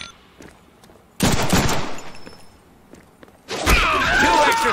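Gunfire in the Deadpool video game: two loud bursts of shots and impacts, the first sustained for about two seconds and the second starting near the end, with quieter game sounds between them.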